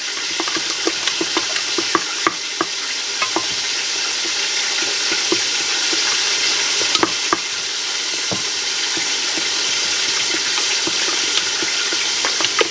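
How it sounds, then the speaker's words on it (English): Steady sizzling of chicken frying in a cast iron skillet fills the clip, with scattered sharp pops and crackles over a dense hiss, close and fairly loud, no voices. "That chicken sure is a frying."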